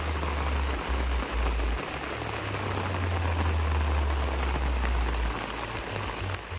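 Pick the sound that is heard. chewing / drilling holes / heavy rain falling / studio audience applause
heavy rain falling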